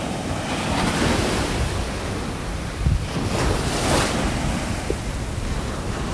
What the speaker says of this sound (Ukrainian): Гарний великий пляж. От хвиля йде далеко.